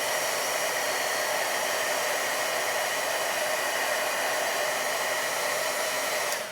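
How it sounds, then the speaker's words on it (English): A heat tool blows hot air onto a painted craft piece being finished with gilding wax, a loud, steady whooshing hiss that holds for several seconds, then cuts off abruptly at the end. "you would use the heat tool on it and brings that leafing to the surface"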